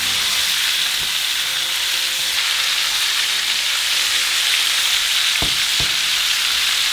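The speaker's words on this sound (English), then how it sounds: "cook your meat for 1 minute each side, all around the meat" Birria meat sears in a pan, a loud continuous sizzle close by with a couple of brief knocks near the end, no voices.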